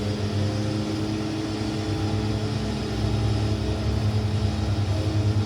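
A simulated aircraft engine at takeoff power in a flight simulator gives a steady, loud propeller drone with a constant hum, growing slightly stronger partway through, with no talking.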